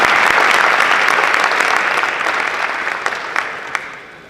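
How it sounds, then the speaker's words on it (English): Audience applause at a youth entrepreneurship panel, a dense sustained wash of clapping that stays strong throughout and thins slightly toward the end, with a few sharper individual claps standing out. "Let's give them another round of applause."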